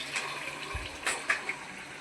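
Water is poured into a cooking pot of browned bottle gourd and meat, making a short, faint run of splashes and gurgles with a few small bursts.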